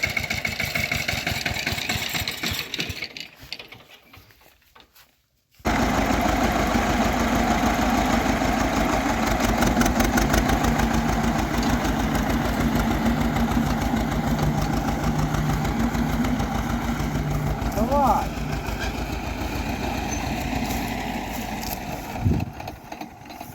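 A small tractor engine idles with a steady chugging drone, briefly cutting out near the start before resuming and running on evenly.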